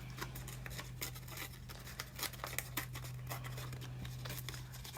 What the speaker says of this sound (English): Whoops, I forgot to rip the top.